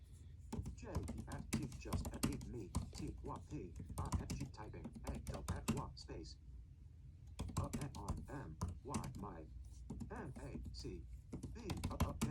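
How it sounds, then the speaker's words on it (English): Fast, continuous typing on an M1 MacBook Pro keyboard, dense clicking keystrokes close up, with a short pause midway. "I could see somebody typing away on this for a while"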